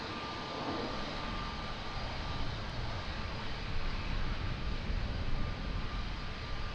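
An airplane lands at Lisbon Airport, its engines a steady, broad roar heard from a distance that swells slightly toward the end, with no voices.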